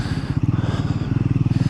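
A Triumph Scrambler 400X motorcycle engine idles close up with a loud, rhythmic single-cylinder thump, pulsing evenly and steadily throughout.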